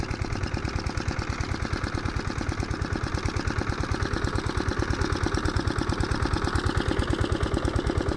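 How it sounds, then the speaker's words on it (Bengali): A motor pump running steadily while supplying water to a farm field, its engine giving a fast, even mechanical chug that stays loud and close with no pauses. "এখানে মোটর করে জল দিচ্ছে এখানটা"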